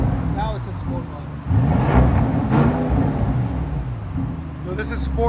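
A 2026 Audi RSQ8 with a 4.0L twin-turbo V8 and resonator delete, set in sport mode, revs with a deep, loud rumble that swells and holds for a few seconds while a person talks over it.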